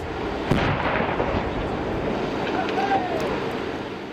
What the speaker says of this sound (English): Exploding gas bottles blowing apart a home on the outskirts of Bateman's Bay